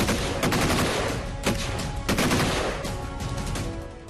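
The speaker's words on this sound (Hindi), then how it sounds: "एलओसी पर पिछले 10 दिनों से यूं ही गोलियां गरज रही हैं" Gunfire crackles along the Line of Control in the Uri sector of Jammu and Kashmir, with sharp bursts of shots and a few louder cracks coming in quick succession over steady outdoor noise.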